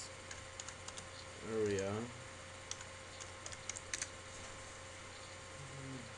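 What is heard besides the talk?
typing on computer keyboard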